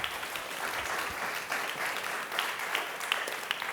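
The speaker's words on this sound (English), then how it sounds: "can we give a round of applause to the Young Alumni Board for all of their incredible work?" Audience applause at an alumni honoree event for a university's Young Alumni Board, a steady wash of many hands clapping at moderate volume, a little distant, with no speech over it.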